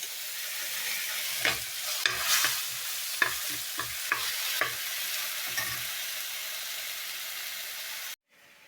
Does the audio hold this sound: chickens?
no